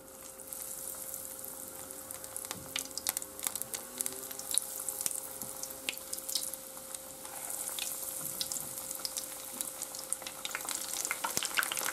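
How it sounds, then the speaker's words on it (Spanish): Serrano ham croquettes frying in plenty of hot oil, a steady close crackle and sizzle with sharp pops scattered throughout, and no talking. "Ya está caliente el aceite y ahora vamos a echar las croquetas."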